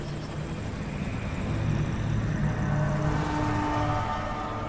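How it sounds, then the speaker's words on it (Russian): A helicopter in the video game Metal Gear Solid V gives a steady, loud rotor and engine drone that swells slightly midway, with no speech. "Очковый вертолет."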